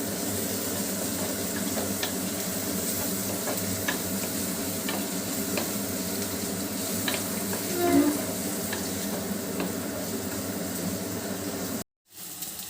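Pakodas frying in hot oil until golden brown, a steady, close bubbling sizzle with occasional stirring clinks that continues for about twelve seconds before a brief cut-out at the end.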